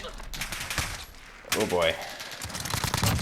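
Mini UZI submachine gun in Call of Duty Modern Warfare with a compact build and 950-round-per-minute automatic fire, loud rapid bursts that surge midway through, with a brief spoken exclamation over the shooting.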